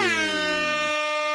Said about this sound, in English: Air horns for his Cal Bears winning the last Pac-12 game of all time.